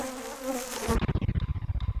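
Enraged bees buzz in a confined cargo box on the road, a dense swarm hum that gives way after a second to a low, rapidly pulsing drone, fairly close and steady.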